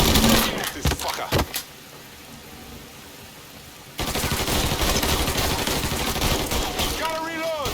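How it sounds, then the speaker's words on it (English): Rapid automatic gunfire in the video game Mafia 3 crackles loud and close in dense bursts, stops briefly, then resumes as a sustained barrage while someone shouts over it. "Fucker won't stop shooting!"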